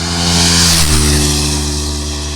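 Honda CBR125R single-cylinder sport motorcycle engine revving loudly and close, a steady harsh drone with strong low harmonics that rises and then settles slightly, with no voices.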